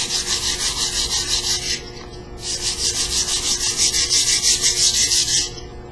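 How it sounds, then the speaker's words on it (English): A 120 grit sanding block rubbed by hand along a wooden edge, steady back-and-forth rasping strokes in a quick even rhythm, close and loud, pausing briefly once before continuing. "Use 120 grit wrapped around a sanding block to remove any defects from the edge."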